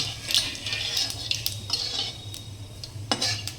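Whole cumin seeds dropped into hot oil alongside vadi, a bright crackling sizzle with metal spoon clinks and scraping as they are stirred, close and steady.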